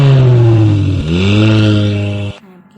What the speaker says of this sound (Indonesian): kan suara mobil.